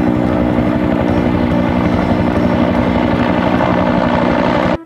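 A toy helicopter sound effect plays: a loud, steady mechanical rotor-like whir with a rapid chopping pulse, continuous for several seconds before cutting off abruptly.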